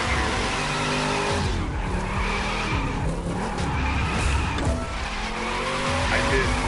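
A GT500 in a racing video game skids into a 360 spin, tires squealing and engine roaring loud and continuous for several seconds, with no talk over it.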